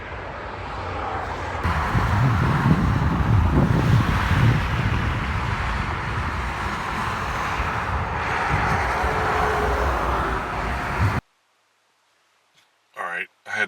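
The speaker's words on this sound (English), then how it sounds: "Traffic has not let off at all." A loud, steady roar of highway traffic fills most of the clip, then drops abruptly to near silence with a few soft clicks.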